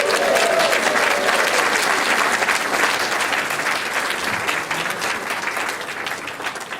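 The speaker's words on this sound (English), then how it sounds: "Give them a round of applause" Audience applause for the singers at a 2018 concert, a loud, sustained roar of clapping from a full hall, with a brief cheer early on, tapering slightly toward the end.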